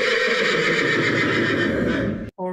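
A horse whinnies loudly in a long, sustained, wavering neigh played from a recording, ending abruptly with a brief short tail of sound.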